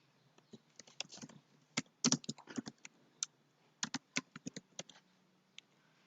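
Student names typed on a computer keyboard: bursts of quick, light key clicks close by, with short pauses between words, quiet and alone.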